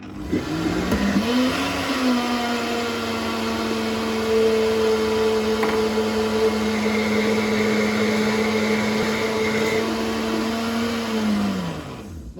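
A Vitamix blender purees raw carrots, a steady motor whine that rises on startup, holds an even pitch for about ten seconds, then winds down near the end, close and fairly quiet, with no talking.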